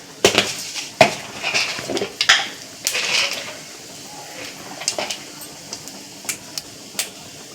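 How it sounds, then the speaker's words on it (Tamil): Mustard seeds, urad dal, fennel and cinnamon crackling and popping in hot oil for a chicken liver curry, with irregular sharp pops and clatters scattered over a low sizzle. "நல்லா பட்டை கடுகு எல்லாம் பொரிஞ்சிற சவுண்டு கேட்குது"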